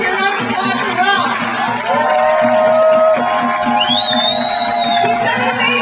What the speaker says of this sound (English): Let's hear a round of applause for Ralph